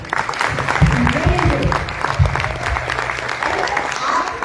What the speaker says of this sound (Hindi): एक बार जोरदार तालियां अपने लिए बजा दीजिए।